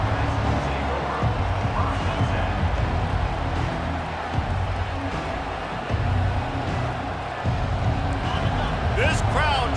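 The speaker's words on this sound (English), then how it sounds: "This crowd trying to show them what it's going to be like all day in this house." Stadium crowd at a Rutgers vs Iowa college football game, a loud continuous roar filling the space throughout, with a sports commentator's voice running over it.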